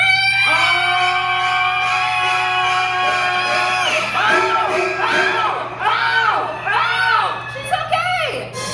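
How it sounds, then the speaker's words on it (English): A large theme-park audience at a special effects show screams together on cue, a sustained crowd shriek breaking into several rising and falling waves of yells and whoops, loud and close. "Everybody scream on 3, Carrie."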